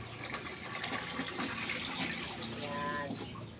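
Water pours and splashes steadily, close by, as drinking and bathing water is filled for pet animals behind a house; the gushing runs continuously with a faint voice in the background.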